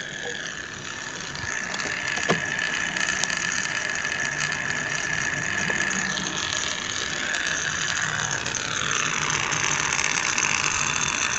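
A small pump hums and rattles steadily, a constant mechanical whir with a faint ticking texture, close up and unbroken throughout.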